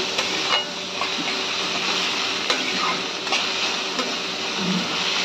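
Onions fry in hot oil in a pan, a steady, close, continuous sizzle with occasional stirring scrapes.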